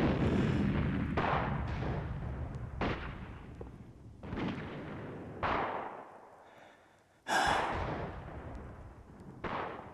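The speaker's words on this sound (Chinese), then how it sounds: "你听，这炮声是越来越近，越来越密了。" Heavy artillery fire in a wartime battle scene, with repeated deep booming blasts every second or so that each rumble and fade, overlapping into a continuous roar, and one short lull before another strong boom.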